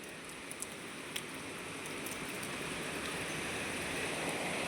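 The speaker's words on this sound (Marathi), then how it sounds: "पाऊस चालू झालाय बघा आता" Steady rain falls in Pune at the first rain of the season, a dense, even hiss of drops with a few sharper drips near the start, holding constant throughout with no voices.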